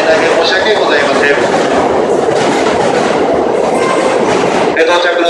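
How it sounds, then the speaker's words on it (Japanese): A Shonan-Shinjuku Line commuter train arrives at a Japanese station platform, its loud rolling rumble and clattering wheels filling the scene, with a station announcement voice mixed in under the noise. "到着の電車は湘南新宿ラインの新宿止まりとなっております。"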